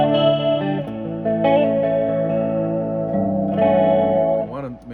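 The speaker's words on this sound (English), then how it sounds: "Just for kicks, a little chorus." Guitar chords through a Quilter Labs BlockDock 10TC amp ring out with a shimmering chorus effect, sustained and layered, played alone with a slight wavering swirl.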